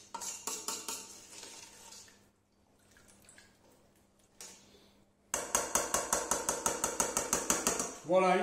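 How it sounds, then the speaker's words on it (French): Sangria being stirred in a bowl with lemonade, a spoon clinking against the sides in a quick, steady run of rhythmic taps, close and fairly loud, with a short burst of speech earlier on. "Voilà, vous remuez bien."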